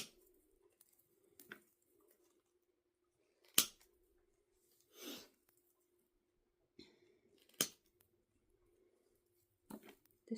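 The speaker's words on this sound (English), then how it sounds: "I'm going to cut these apart." Scissors make a few sharp, separate snips as Christmas tree decorations are cut apart, each cut a brief crisp click in a quiet room, with soft rustling between them.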